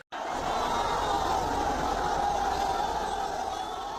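Large crowd at an election rally in Phulpur, a dense, steady roar of many voices filling the space loudly throughout.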